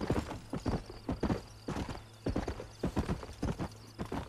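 Horse hooves clip-clop in a steady galloping rhythm in the Red Dead Redemption video game, close and clear over a low hum, with a brief neigh.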